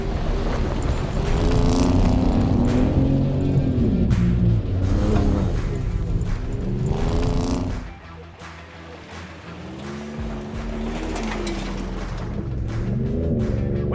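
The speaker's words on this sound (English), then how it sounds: "we're gonna go tear it up in a little bit of mud" A 2019 Ford Raptor SuperCrew pickup roars through mud off-road, engine loud and steady with revs rising and falling, then easing to a lower drone midway before building again.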